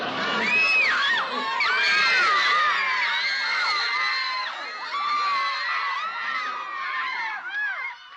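A large crowd of fans screams and shrieks continuously at close range, high excited voices overlapping in a dense wall of sound throughout.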